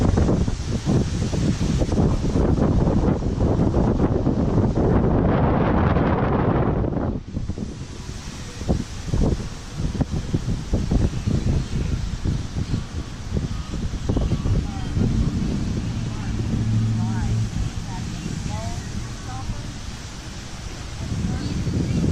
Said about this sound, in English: Video is going to be a little windy since we are at the beach